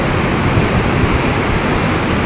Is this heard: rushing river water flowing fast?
yes